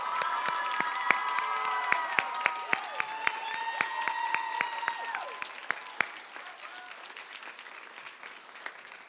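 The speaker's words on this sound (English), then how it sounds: "please give him the round of applause first." Audience applause with scattered cheers and whistles at an end-of-year school choir concert, a dense sustained clatter of many hands with sharp individual claps standing out, gradually thinning toward the end.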